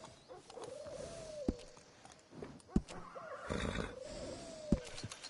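Horse neighing in the Red Dead Redemption 2 video game, two loud whinnies with falling pitch a few seconds apart, with hoof clops and thumps around them.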